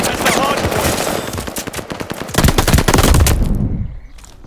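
Rapid machine-gun and rifle fire at the hardpoint in a Call of Duty: Vanguard match, dense overlapping bursts close and loud, ending abruptly into near silence.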